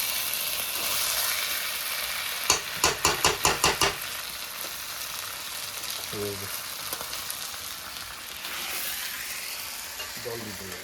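Hot water goes into a meat curry cooking in a pan, giving a loud, continuous sizzle and hiss. A quick run of clanking stirring strikes comes early, then quieter scraping as it keeps bubbling.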